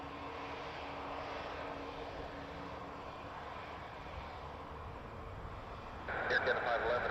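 An Air Canada jet bound for Chicago O'Hare rolls for takeoff on runway 23 at Toronto Pearson Airport, a steady distant engine roar that swells louder toward the end, with radio chatter underneath.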